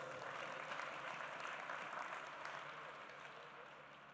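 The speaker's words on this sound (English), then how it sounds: "you can give yourself a round of applause" Graduates and guests applaud at a University of Michigan spring commencement, a dense, steady round of clapping from a large crowd that holds throughout and slowly fades toward the end, with no voices over it.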